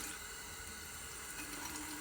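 Warm tap water runs steadily from a faucet for rinsing, a faint, even hiss with no breaks or voices.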